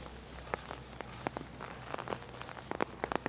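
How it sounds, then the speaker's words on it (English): Rain falls steadily on a wet day at Totem Bight State Park in Ketchikan, Alaska, a soft constant patter broken by scattered louder drips close by, with no voices. "It is a rainy day today."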